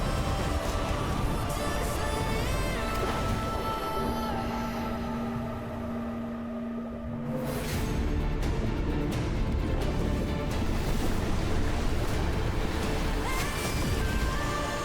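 Ocean waves surge and crash in a dense, loud roar during a Wuthering Waves game trailer, layered with dramatic music that drops briefly midway before the crashing swells return.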